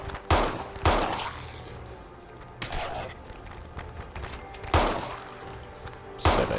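Gunfire from the video game Fallout 4, a survival-mode modded playthrough: several loud, sharp shots spaced irregularly over a low rumbling backdrop, close and punchy, without speech.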